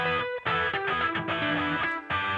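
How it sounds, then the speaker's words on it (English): Two distorted electric guitars play together in a short chordal riff, with brief pauses between phrases. "two different guitar parts here"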